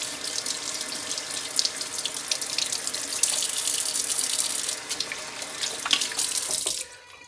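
Tap water runs steadily into a kitchen sink while hands are washed, a continuous close splashing hiss with small splatters that cuts off abruptly near the end; no one speaks.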